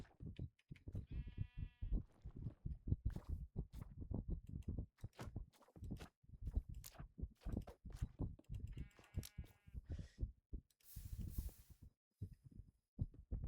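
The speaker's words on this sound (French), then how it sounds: "Ah, un mouton." Two distinct sheep bleats ring out in a video game, each a wavering cry, amid busy clattering game sounds and muffled thumps.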